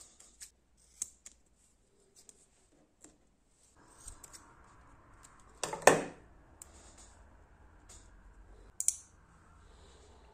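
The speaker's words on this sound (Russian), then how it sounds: "Берем с вами двусторонний скотч и нарезаем кусочек." Double-sided tape being cut with scissors, heard as a few soft clicks and snips, then a louder crisp cut near the middle and another brief snip later, all close and quiet against a faint hiss.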